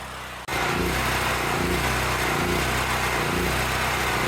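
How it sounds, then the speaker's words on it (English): A Generac portable generator engine runs steadily and loudly after a brief moment, its drone pulsing with slight surges as it begins to run out of gas. "You can hear this generator is starting to run out of gas"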